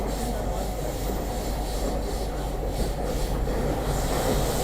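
A train on the Delhi–Srinagar line rumbling across the Chenab Bridge near a tunnel, a loud steady roar of rolling wheels and rail noise with faint rubbing squeal, continuous and close.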